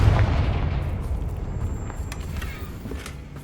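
A Confringo fire spell blast in the Hogwarts Legacy video game, a loud booming burst at the start that rumbles and slowly fades over a few seconds of low roar.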